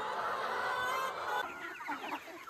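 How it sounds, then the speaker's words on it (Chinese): A flock of free-range chickens crowds in at feeding time, a busy mass of overlapping clucks and squawks close by, with a rooster crow rising near the middle. "喂鸡了啊，那这个鸡全来"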